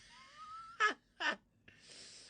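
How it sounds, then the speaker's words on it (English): A zipper pulled indoors, heard as two short, close rasping bursts followed by a longer, softer hiss, with a faint whistling tone before them and no talking. "Did I hear a zipper?"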